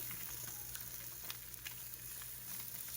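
Slices of Spam fry in a pan in their own rendered fat with no added oil, a faint, steady crackling sizzle with small scattered pops, no talking.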